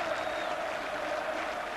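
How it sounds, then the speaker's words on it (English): Distant applause from Watford supporters at the end of a 1982 Charlton versus Watford football match, a steady, faint wash of clapping in a large open stadium with no voices over it. "So applause from the Watford fans"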